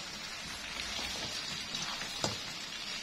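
Salted fish (ikan pe) being stir-fried in a pan gives a soft, continuous crackling sizzle, fairly quiet and close, with a faint clink near the end and no talking.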